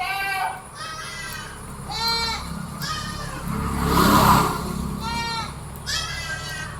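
A mother goat and her two three-month-old male kids bleating at a livestock sale, a series of wavering bleats roughly every second or so, fairly close, with someone talking and other background noise.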